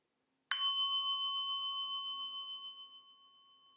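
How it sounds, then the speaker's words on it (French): A single meditation bell struck once in a quiet room, its clear ringing tone sustaining and slowly fading over several seconds. "Et je me prépare à écouter un son de cloche."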